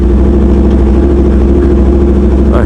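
A loud, steady Aprilia RSV4 1100 Factory motorcycle engine idles close by at a car meet, a low mechanical rumble with a faint rattle throughout and no voices.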